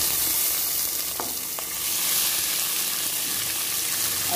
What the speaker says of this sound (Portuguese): já coloquei o óleo aqui. Agora, gente, eu vou acrescentar aqui, ó, cebola, tomate, pimentão